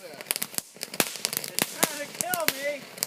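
Fireworks crack and pop during a fireworks night with friends and family, a rapid irregular series of sharp nearby bangs while people talk and exclaim over them.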